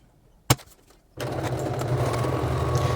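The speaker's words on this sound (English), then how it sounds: "The next step was to sew the anchor points onto the reinforcing webbing" A sewing machine stitches anchor points onto reinforcing webbing for a homemade tarp: a single sharp click, a brief pause, then a steady, close mechanical whirr that runs without a break.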